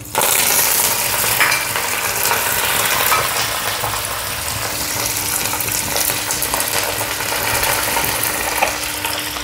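Green chilies and curry leaves fry in hot oil in a pan, a loud steady sizzle that runs unbroken, close up, with faint stirring clinks now and then.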